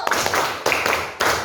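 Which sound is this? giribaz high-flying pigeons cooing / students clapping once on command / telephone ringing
students clapping once on command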